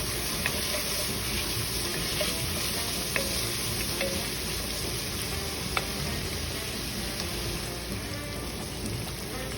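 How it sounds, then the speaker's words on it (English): Chopped garlic and a small green pepper fry in a pot with a steady, dense sizzle throughout, broken only by faint clicks of stirring. "I'm adding a couple of cloves of chopped garlic and a small green pepper. Mix that around."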